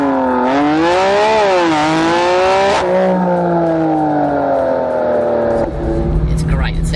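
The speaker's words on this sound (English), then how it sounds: "it's got a beautiful titanium race exhaust on it that sounds really raspy" A 2017 BMW M4 GTS with a titanium race exhaust revs hard and raspy, its pitch climbing and dipping through rising and falling sweeps, loud and close, with a sharp crackle near the end.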